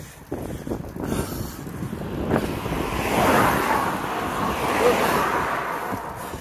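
Strong gusting wind buffets the microphone during an outdoor ride up a road in sunshine, a steady broadband rush that swells louder midway with faint rumbling underneath and no talking.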